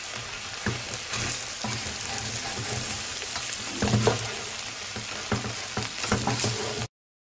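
Bread pieces stirred and frying in hot oil in a pan, a continuous close sizzle broken by repeated scraping turns of a utensil, with no talk, ending in a sudden cutoff.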